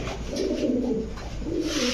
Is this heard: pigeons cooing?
yes